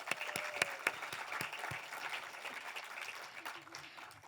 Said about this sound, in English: So let's give all of those individuals and yourself a round of applause.